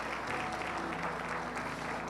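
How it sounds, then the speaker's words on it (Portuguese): A church congregation applauds loudly during a sermon, a thick wash of many hands clapping continuously, with a faint steady hum beneath the crowd. "pode aplaudir Jesus bem forte"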